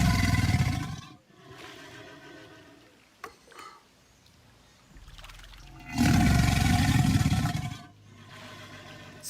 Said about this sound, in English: you're going to hear an alligator really close to a camera